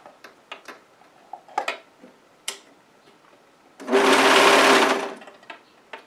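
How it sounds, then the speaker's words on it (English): A sewing machine stitches a dress side seam in one steady, buzzing run lasting about a second, framed by scattered clicks and fabric handling before and after. "And then I'm going to sew down the whole side seam."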